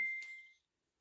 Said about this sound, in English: My phone is going crazy.